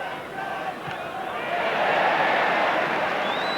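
A football stadium crowd at a 1983 Liverpool v Stoke City match roars in appreciation of a tackle, a broad sustained swell of voices and cheering that rises and holds loud, with whistles cutting through.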